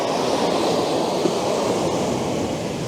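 Ocean waves roll and wash as a steady, loud surf roar on a coast after sunrise, mixed with some wind, and no one speaks.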